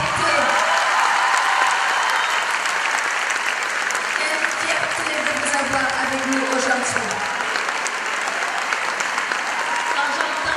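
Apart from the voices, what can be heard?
audience applause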